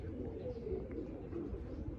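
A red-headed pet pigeon resting indoors coos softly in low, rolling murmurs, faint and steady against a constant background hum.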